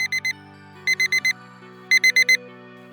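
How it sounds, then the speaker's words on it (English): Alarm clock ringing in short bursts of rapid electronic beeps, groups of three then four, bright and insistent over a soft tonal melody, loud and close with no voices. "the alarm goes off"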